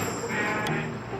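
A single short bleat rises over a busy background at a goat market in Saudi Arabia, with the crowd's bustle and shuffling around it.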